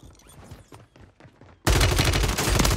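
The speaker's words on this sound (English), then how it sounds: "Oh, behind me, they shooting." Warzone 3 enemy gunfire on Rebirth Island: scattered sharp shots at first, then a sudden loud, sustained burst of rapid automatic fire that fills the rest of the moment.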